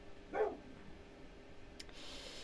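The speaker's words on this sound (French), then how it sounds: "Excusez-moi pour les chiens qui aboient, il doit y avoir quelqu'un devant la maison." Dogs outside a house give a single short bark, faint and distant, over a quiet room background.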